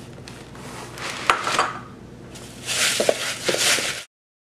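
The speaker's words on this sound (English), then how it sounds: "I'm only going to add in 1 cup at a time and then mix them in." Rice Krispies cereal stirred into a pan of melted mixture, giving scraping, clattering utensil sounds in two bursts, a softer one and then a louder, denser spell near the end.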